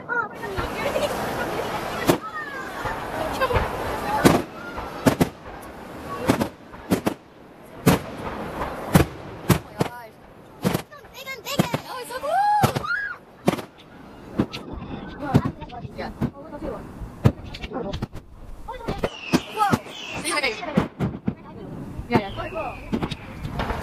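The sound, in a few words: fireworks exploding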